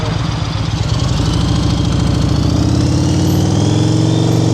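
A motorcycle engine runs steadily at low revs during slow-speed riding practice, a loud, close, continuous mid-pitched drone with faint knocking pulses and no talk over it.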